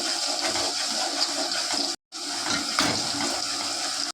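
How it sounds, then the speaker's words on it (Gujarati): Water pours steadily into a cooking pot of gavri with a rushing, splashing flow. A brief break near the middle is followed by more pouring. No one speaks. "આપણે થોડું પાણી નાખી દીધો પકાવવાનું"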